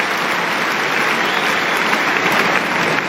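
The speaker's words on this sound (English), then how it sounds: "A groan from the crowd." A Wimbledon tennis crowd groans together after a ball is called long, a broad, sustained murmur of many voices that holds steady and fairly loud throughout.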